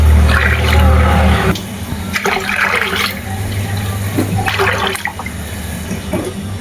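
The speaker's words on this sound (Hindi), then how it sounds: "तो चलिए इसमें ऐड करते हैं पानी।" Water gushes and splashes into a bowl of washed rice being soaked, loud close pouring in bursts with short pauses between them.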